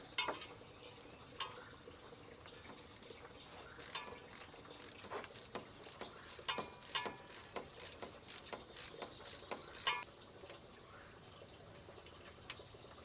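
A ratchet clicks in quick bursts while a thermostat is removed from a 1982 Jeep CJ7 during a coolant flush, with faint, close, irregular clicking runs and small metallic handling sounds and no talking.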